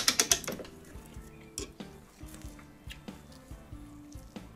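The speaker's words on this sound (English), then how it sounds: "and then wind up the spring," A mainspring winder ratchets and clicks as the spring of a Korean 31-day wall clock is wound, with a quick burst of clicks at first, then slower, spaced metallic ticks and clunks close up.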